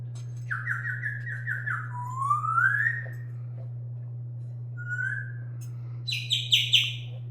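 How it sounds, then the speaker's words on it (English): A pet parrot gives a run of rapid chirps, a rising whistled squawk, and later a burst of shrill calls, close and fairly clear over a steady low electrical hum. "My parrot is having a lot to say today."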